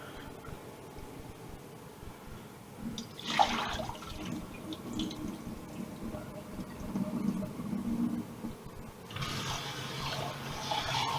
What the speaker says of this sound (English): You're just rinsing the rice 4, 5, 6 times ish